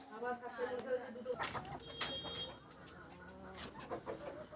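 Several chickens cluck and squawk close by while being fed, with scattered pecking sounds, while a person talks intermittently over them.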